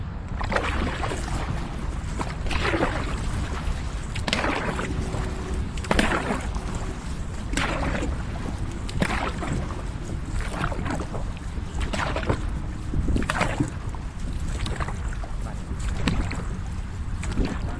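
Dragon boat crew paddling during a training session, heard as rhythmic splashes and strokes through water at a steady pace, roughly one every second, over constant wind and water noise with no clear talk.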